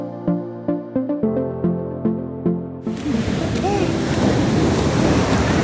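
Big ocean waves breaking at Laguna Beach in California arrive as a loud, broad rush of surf that fills the second half, following a stretch of rhythmic plucked music.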